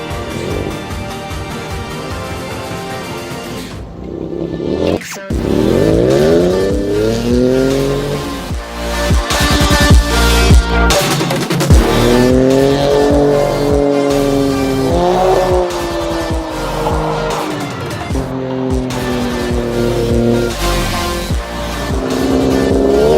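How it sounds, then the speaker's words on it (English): A car does donuts in the snow, its engine revving hard and repeatedly with long wavering pitch sweeps, loud and close, continuing for a long stretch with brief cuts. "what we're actually going to do now is do some donuts in the snow"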